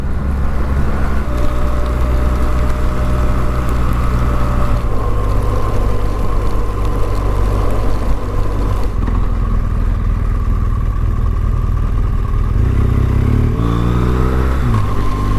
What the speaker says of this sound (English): 1 or 2 bikers out. Hello sir, Mr. Multistrada and another GS.